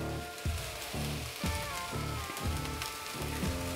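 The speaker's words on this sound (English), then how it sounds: "Add some good olive oil in here." Olive oil sizzles in a pan for sautéing on a Weber grill setup, a soft, continuous crackle broken by regular low thumps roughly every half second.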